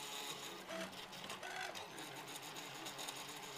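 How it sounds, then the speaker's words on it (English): Pellet-extruder 3D printer running at 30 mm per second while printing a replacement part, giving a steady mechanical whirr with faint stepper-motor tones and light rhythmic ticking, continuous and close, with no talk. "For the first, real replacement part that I print here, the speed is set to 30mm per second."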